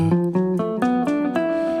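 Quick keyboard notes step upward one after another in an even, rising run, each note struck cleanly and close up.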